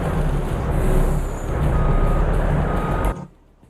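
In the video game Farming Simulator 22, a truck sounds loud repeating reverse beeps over its rumbling engine and hissing air, then cuts off abruptly into near silence.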